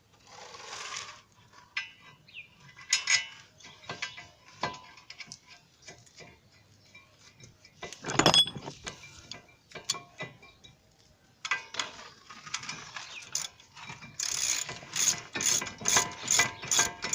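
A ratchet tightening 15mm caliper bracket bolts on a 2007 Ford Fusion brake job, bursts of fast metallic clicking with pauses and some handling clatter, close and clear.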